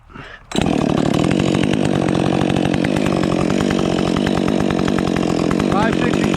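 A Husqvarna XP chainsaw with a muffler mod and new Oregon EXL chain bursts to life and runs at full, loud, steady revs while cutting firewood, up close and continuous after a brief quiet start.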